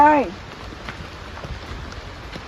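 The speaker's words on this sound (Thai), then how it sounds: "ตอนนี้ฝนตก" Rain falls steadily as a dense, even hiss of patter throughout, with a brief voice at the very start.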